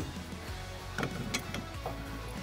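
A medium-length metal rock slider bracket slides onto its mount on a Jeep Wrangler, making a few soft metallic clicks and scrapes close by over a low background hum, with no talking.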